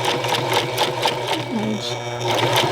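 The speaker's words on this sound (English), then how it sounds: "now that I've turned the fabric with the needle still in, I can go down the other diagonal" A sewing machine stitches fabric down a diagonal edge while sewing a skirt placket, giving a rapid steady mechanical whir with a brief pause, close and loud, as a person talks over it.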